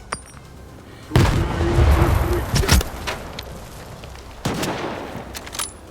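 Rifle gunfire in a video game: loud, heavy shots crack out in a dense cluster, then pause, then another sharp burst of fire follows over steady background noise.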